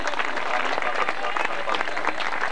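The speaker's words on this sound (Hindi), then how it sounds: "तालियां भाई।" A gathering at a pigeon-flying tournament prize-giving claps for an award handed over, dense steady applause with some voices murmuring underneath.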